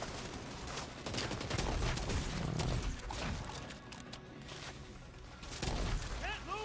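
Rapid gunfire from The Division 2 video game crackles in repeated bursts at moderate loudness, mixed with game effects and someone talking over it.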